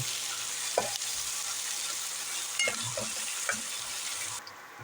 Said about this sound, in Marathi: त्याच्यात आपण कांदा भाजून घेऊ